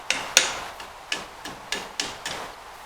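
A cotter pin on a Kioti tractor hitch is tapped and bent over with a tool, giving a series of about six or seven sharp metallic taps, close and fairly evenly spaced, the first ones strongest.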